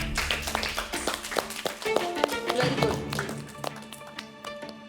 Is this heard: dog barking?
no